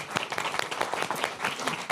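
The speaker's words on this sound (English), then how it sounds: "Can we have a big round of applause?" A conference audience applauds the panelists at the close of a music-industry agents panel, a steady wash of many hands clapping close by for the full length, with no voices over it.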